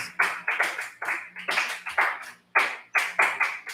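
Church congregation clapping in strong unison bursts, a rhythmic run of loud, evenly spaced claps in groups of about three, briefly pausing before resuming, with no talk over it.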